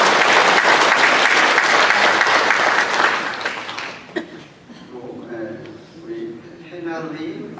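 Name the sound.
audience applause welcoming guests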